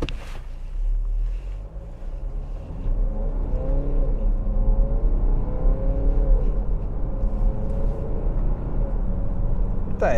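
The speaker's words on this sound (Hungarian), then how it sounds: "Nincs rossz hangja ennek a motornak. Négy hengeres motor soha nem lesz olyan hangú, mint a hat hengeres, de ez azért rendben van." Volvo XC60 D4 four-cylinder diesel from 2017 with Geartronic gearbox, a steady engine drone and road rumble heard from inside the moving car, revs gently rising and falling, with wind noise and no clear talk.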